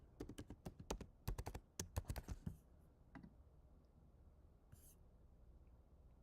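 A password is tapped out on a computer keyboard in a quick, close burst of crisp keystrokes over about two seconds, followed by a few scattered taps and quiet room hiss.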